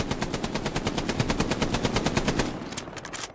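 Rapid machine-gun fire in the video game Hell Let Loose, a loud, steady stream of automatic shots lasting about two and a half seconds, then a few scattered distant bursts.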